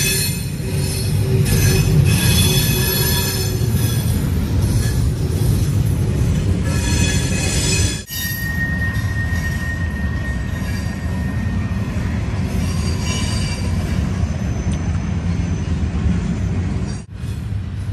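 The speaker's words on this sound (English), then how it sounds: "Well, there goes the end of the train." A train rolls past near an abandoned amusement park, loud and close, with wheels squealing in sustained high tones over a heavy rumble. There is a brief dip around the middle and another near the end as the cars go by.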